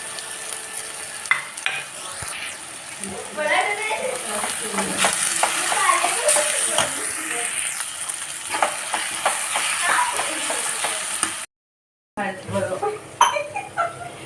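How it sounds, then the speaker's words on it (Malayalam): Onions sizzling in a pan as crushed ginger, garlic and green chili are stirred in, a steady close frying hiss with scraping spoon clatter, a cough and a pause partway through. "ഇനി നമുക്കിതാ ഇഞ്ചി വെളുത്തുള്ളി ചതച്ചത് പച്ചമുളക് ചതച്ചത് ഇട്ട് കൊടുക്കാം"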